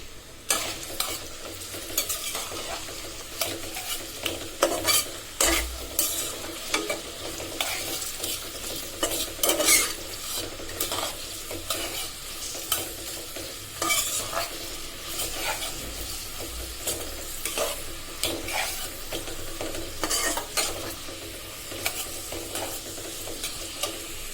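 Onion, garlic, green chili, cinnamon, cloves, cardamom and bay leaf frying in hot oil while being stirred for a bottle gourd and egg curry, with a steady sizzle and repeated scraping spatula strokes throughout, close and fairly loud.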